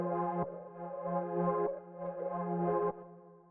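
A moving synth pad from a Serum preset, played as sustained chords that swell and shift in a few long phrases, alone with no voices.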